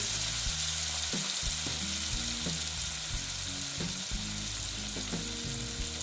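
Spices and turmeric are being stirred and fried in a pan for a katla fish mustard-poppy curry: a steady, loud sizzle runs throughout, with a dozen or so soft spatula scrapes and taps at irregular intervals and no voices.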